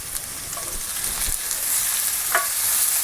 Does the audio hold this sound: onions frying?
yes